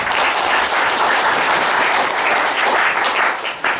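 Loud, steady applause from a crowd, clapping continuously throughout with no voices standing out.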